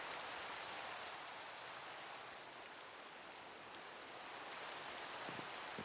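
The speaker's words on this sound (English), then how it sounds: "I'll get rid of the annoying rain noise as well" Steady Minecraft rain hisses as a constant, even wash of noise with no breaks, soft and continuous throughout.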